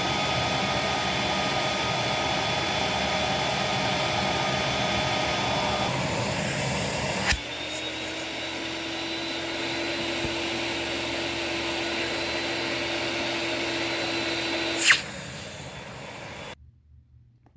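A Vax 221 vacuum cleaner runs continuously at a steady, loud whine with broad hissing airflow, its tone shifting slightly midway as a brief knock sounds, then cutting off at the end.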